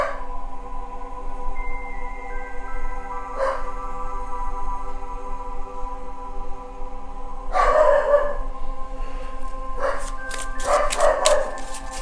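Indoors after the doorbell rings, a dog lets out a few separate barks: a single one early on, then a couple of short clusters later, moderately close over a steady electronic hum.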